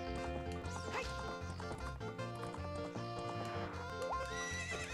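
A horse neighs in the video game Ocarina of Time over dense, continuous game music, with hoof clip-clops and whinnies mixed into the loud soundtrack.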